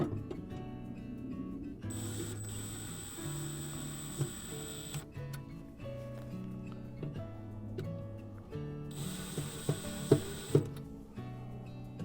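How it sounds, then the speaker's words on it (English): A screwdriver, apparently powered, tightens screws on a mailbox in two separate bursts of steady motor whine. Faint clicks and handling noises fill the gaps in a quiet indoor setting. "we'll tighten that with a screwdriver"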